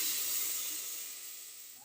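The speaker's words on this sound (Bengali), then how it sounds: "গরম জলটা দিয়ে দিলাম" Hot water hits a pan of cooking tilapia curry and bursts into a loud, steady steam hiss that slowly fades, close by with no talking.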